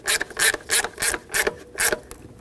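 A 10mm ratchet snugs the valve cover mounting nuts on a 3.6L Dodge Grand Caravan, about seven quick clicking bursts in an even back-and-forth rhythm, close and clear with no voices.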